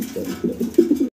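A pigeon coos at a wholesale pigeon seller's, a short run of soft, low, throaty coos close to the microphone that ends abruptly.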